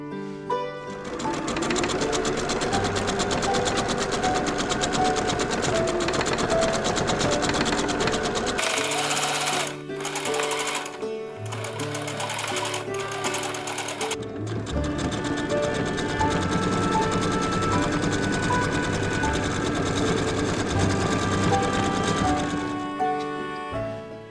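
A sewing machine stitches along a fabric edge with a loud, fast mechanical whir. It pauses and restarts briefly midway, then resumes its steady run, with no talk.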